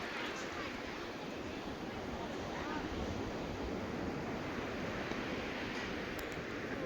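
Surf and ocean waves wash steadily at Norman Beach on Wilsons Promontory, with a continuous broad roar and wind buffeting the microphone throughout, no clear breaks between swells.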